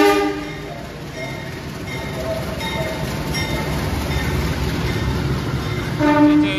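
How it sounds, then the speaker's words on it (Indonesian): Kahuripan passenger train entering the station track: a loud, continuous rumble of rolling stock with tonal horn-like and squealing components, close and steady throughout. "Sepertinya nanti untuk kereta Kahuripan akan masuk jalur"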